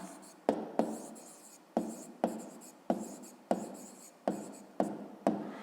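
Handwriting on paper during a fifth-grade maths exercise, a series of about ten short, sharp pen strokes in an uneven rhythm, close and fairly faint, with no talking.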